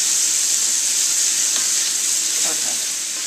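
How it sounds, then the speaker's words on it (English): Garlic and onion sauté in oil over medium-high heat for a zucchini dish, giving a steady, close hiss of frying that holds level throughout. Brief stirring scrapes break through near the middle and again toward the end. "heat that oil up, medium to high heat, and then saute your garlic and onion just so it's translucent"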